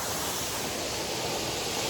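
A loud, continuous rush of water from a roadside waterfall by a forest road in Dang, the dense hiss and roar holding steady and close with nothing else heard over it.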